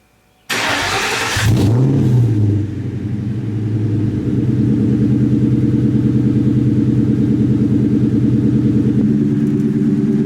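A 1999–2004 Ford Mustang engine fires up with a sharp burst and a rev, then settles into a steady, loud, deep exhaust rumble that continues throughout. No talking.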